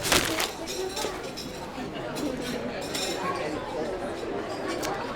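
Glasses and cutlery clink repeatedly among a crowd of wedding guests, bright chiming taps scattered over steady chatter and talking.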